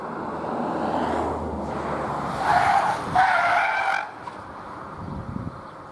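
Front tires of a 2024 BMW X2 skid and squeal through a moose test dodge manoeuvre, a sustained rough scrubbing roar that swells into sharper squealing bursts midway, then fades.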